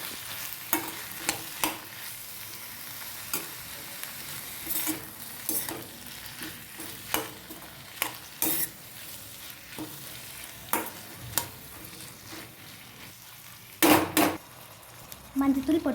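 Green peas, capsicum and other vegetables frying in a pan for a home lunch recipe while a spoon stirs them, with a soft sizzle underneath and sharp scrapes and clinks of the utensil against the pan at irregular moments.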